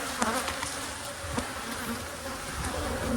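Honey bees buzzing around an opened nuc hive full of propolis, a soft, close, continuous hum with a few faint clicks and knocks from handling the frames.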